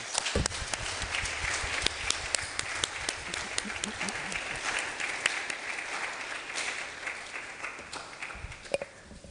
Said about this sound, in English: Please, let's give Dr. Edwin another round of applause.